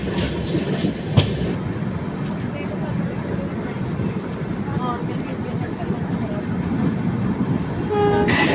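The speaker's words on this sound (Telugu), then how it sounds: "పక్కన క్రాస్ అవుతున్న ట్రైన్ విశాఖపట్నం సికింద్రాబాద్ గరీబ్ రథ్ ఎక్స్ప్రెస్." Passenger train, the Visakhapatnam–Secunderabad Garib Rath Express, crossing alongside on an adjacent track, a steady close rumble of wheels and carriages throughout with a brief horn-like tone near the end and faint voices underneath.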